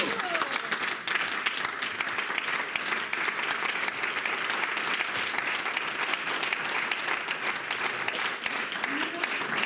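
Audience at a champagne evening talk bursts into sustained applause, many hands clapping densely and evenly for nearly ten seconds, with faint crowd voices mixed in.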